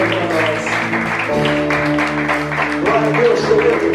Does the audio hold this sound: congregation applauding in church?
yes